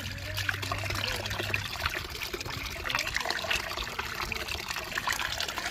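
Warm water pours steadily into a container being filled to the top outdoors, a continuous close trickling gush that runs unbroken throughout with no talk.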